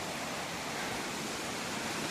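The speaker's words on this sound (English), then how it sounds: "This is not the biggest one. Soon enough we will go to the biggest waterfall." A waterfall in a canyon of the Rhodope Mountains near Smolyan, Bulgaria, gives a steady, dense rush of falling water that stays even throughout, with no voices.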